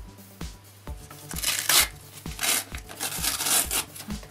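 Paper envelope being opened by hand, close, crisp tearing and crinkling in several bursts with soft rustles and a steady low hum beneath, no talking.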